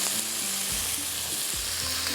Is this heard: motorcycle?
no